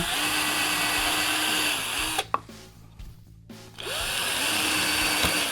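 Power drill boring holes at marked spots, a steady whine running for about two seconds, pausing briefly, then resuming as a continuous close-up drone.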